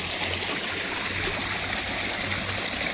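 Water flows steadily through an old stone river structure in a village amid rice fields, making a constant broadband rush and gurgle close by with no voices.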